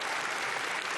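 Strong, dense applause for President Santos at the Nobel Peace Prize week events in Colombia, a continuous wash of many hands clapping with no pauses.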